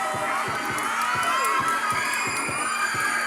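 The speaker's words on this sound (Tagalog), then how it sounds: "Yung dumagundong ang hiyawan, lalo na yung pinaka-last part niya." A crowd roars and cheers for an energetic dance performance, a dense continuous wall of shouting with rhythmic low thumps of music underneath throughout.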